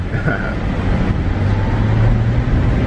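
Car engine running on a test drive, a steady low rumble and road noise heard from inside the vehicle, with some voices in the background.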